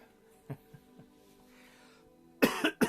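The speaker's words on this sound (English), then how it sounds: "Oh, this cough." Faint soft thumps, then two sharp close coughs near the end, the second following quickly after the first.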